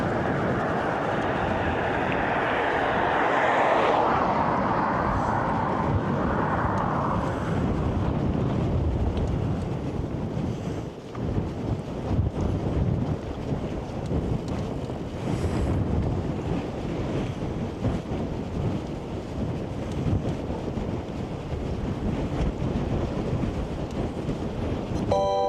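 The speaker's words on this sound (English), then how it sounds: "There's more wind now." Steady, loud wind buffeting the microphone while cycling in the Arctic Circle near Lakselv, Norway, a continuous roaring rush that swells and fades slightly throughout, with no talk.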